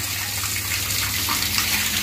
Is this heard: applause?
no